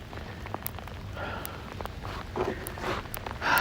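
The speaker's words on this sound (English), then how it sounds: "we're actually getting accumulating sleet" Sleet and freezing rain fall in New York City, a steady close patter of icy pellets ticking on surfaces with scattered sharper clicks throughout and no talking.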